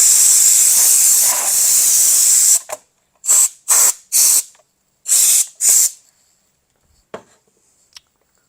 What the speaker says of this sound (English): Let's give it a quick little spray. Maybe knock a few of those dust bunnies out of there.